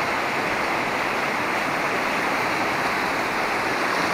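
Steady, full rush of a river flowing through Chochołowska Valley in the Tatra National Park, close and loud, with a continuous broadband hiss and no breaks or voices.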